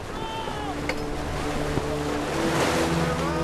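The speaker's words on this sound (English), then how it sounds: "The breeze is freshening. We won't have refuge in the mist much longer. Mr. Hunter's compliments, sir. The wind's getting up again." Wind and surging waves at sea aboard an old sailing warship, a steady broadband rush of water and gusting air with faint creaks, continuous and fairly close.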